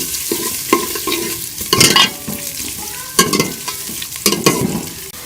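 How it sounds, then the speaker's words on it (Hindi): Onions fry in ghee in a pan, a close crackling sizzle broken by repeated scraping stirs of a spoon at irregular intervals, with no voices. "प्याज डाल देंगे, और प्याज को हम हल्का सा गोल्डन कर लेंगे।"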